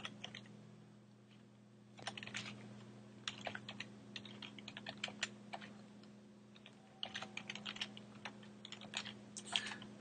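Computer keyboard typing a username, quick irregular clicks in bursts close by over a steady low hum, quiet and without speech.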